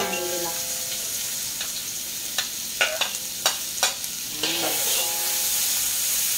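Shallots, garlic and pounded chili sizzle loudly in a frying pan, a steady hiss with several sharp clacks as the mixture is stirred, close and alone without voices.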